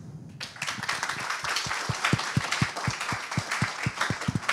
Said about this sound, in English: I would like to add only big clapping for our honor guest, please.